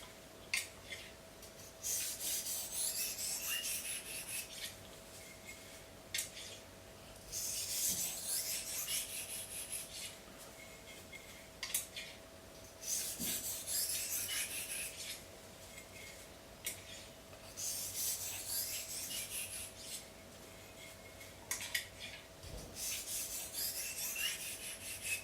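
A slicing knife's edge is polished on a sharpening stone with the blade tilted to keep weight off. Repeated rasping strokes come in rhythmic bursts of a few seconds each, close and clear, with short pauses between.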